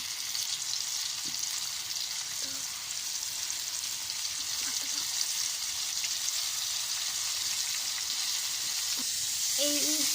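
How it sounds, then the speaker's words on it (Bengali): Flour-coated chicken pieces deep fry in hot oil in a wok with a steady, bright sizzle throughout. Faint clinks from a utensil come and go, and a brief voice is heard near the end. "এবার একে একে আমরা এগুলো কড়াইয়ের ভিতরে দিয়ে দিব, দিয়ে ভালোভাবে ভেজে নেব।"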